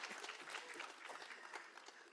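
Event audience applauding at a women's day gathering, a continuous faint wash of clapping heard from a distance throughout.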